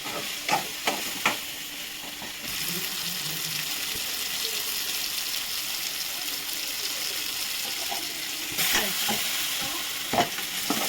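Vegetables frying in hot oil give a steady, close sizzle, with a few sharp utensil knocks and stirring scrapes near the start and again toward the end.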